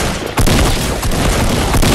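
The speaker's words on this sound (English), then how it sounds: "You keep shooting at him, keep shooting at him." Gunfire in the video game Fortnite, a loud, dense burst of rapid shots after a brief opening, continuing as a sustained fusillade with no talking.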